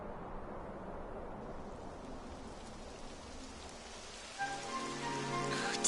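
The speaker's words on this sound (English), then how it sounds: "It would have to go and start raining, wouldn't it?" Rain setting in within Dragon Quest XI S, a soft even patter of drops that thickens and grows a bit louder toward the end, with no voices.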